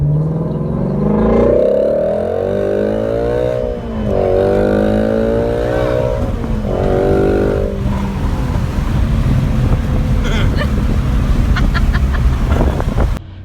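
A Shelby GT350 V8 engine runs close by, with a steady loud drone that swells through several rising revs and then settles back into a rumbling idle, with wind buffeting throughout.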